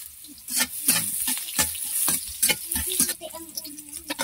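Garlic and onion frying together in a smoking-hot pan, a dense sizzle broken by sharp bursts and clatters of stirring, close and fairly loud throughout.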